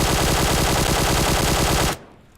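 A QBZ assault rifle fitted with a compensator in PUBG Mobile fires one loud, sustained full-auto burst of rapid, evenly spaced shots for about two seconds, then cuts off abruptly into near silence.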